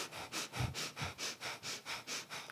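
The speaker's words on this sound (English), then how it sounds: "we call it sniffing like a bunny." A person does a rapid sniffing breathing exercise, with about nine quick, evenly spaced nasal sniffs in a steady rhythm, close and clear, with no talking.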